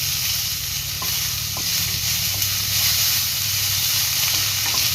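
Steady broadband sizzle of onions and curry leaves sautéing in a hot pan, with faint stirring clinks now and then; no voices, even and continuous throughout.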